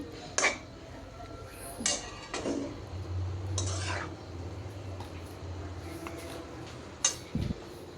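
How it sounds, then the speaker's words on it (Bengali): Red amaranth greens stirred in a cooking pot: a few sharp clinks of a utensil against the metal pot with soft scraping between them, close and fairly quiet, over a faint steady hum. "এখন একটু শাকটা আমি নাড়াচাড়া দিয়ে নিচ্ছি"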